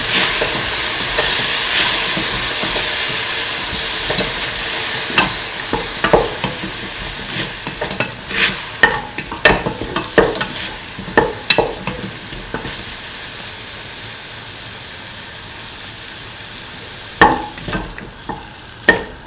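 Spinach and potato sauté in a pan with a steady sizzling hiss, punctuated by sharp scraping clicks of stirring that grow more frequent midway, with no voices present.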